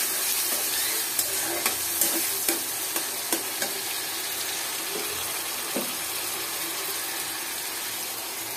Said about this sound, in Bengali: একটা পাত্র নিয়ে মাছের তেলগুলো এখানে দিয়ে দিলাম। এবার দেব পেঁয়াজ, দেব রসুন